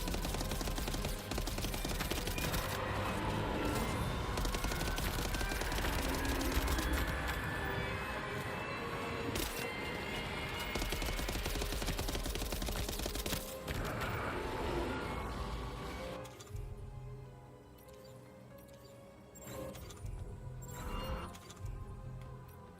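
Long-range gunfire in Death Stranding 2, a sustained rapid volley of shots over a heavy rumble that thins and quiets near the end before a few last bursts.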